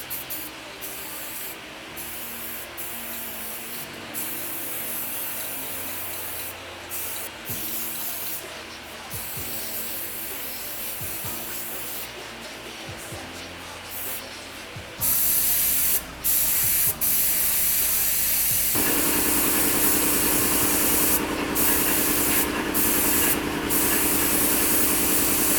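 An aerosol can spray paints motorcycle parts in a run of short hissing bursts, then gives way to one long, louder continuous hiss for the clear coat, close and with no talking.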